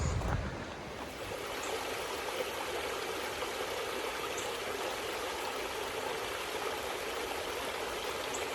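Travertine Creek in Oklahoma flows steadily, a continuous soft rushing and babbling of water, even and unbroken, at moderate distance with no voices.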